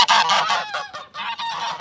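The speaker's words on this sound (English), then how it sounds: "there's the geese honk honk honking" Geese honk repeatedly and loudly at close range, a dense overlapping flock chorus with no talking, heard on a chicken farm.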